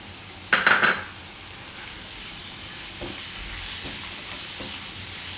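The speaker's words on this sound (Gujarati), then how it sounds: "આમાં આપણે હવે આ ટમેટા નાખી દેવું" Tomatoes tip into a hot frying pan for a Gujarati bhaji and moong dish, giving a brief clatter and sizzle burst, then a steady frying hiss with a few soft scrapes of stirring.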